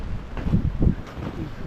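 Wind blowing on an exposed snowy ridge during a blizzard, a steady low rushing roar with gusts swelling and fading close to the microphone.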